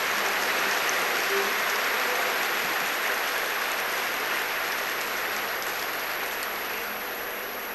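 An audience at a spiritual gathering claps together in a dense, continuous wash, like steady rain, that holds level throughout and fades slightly toward the end.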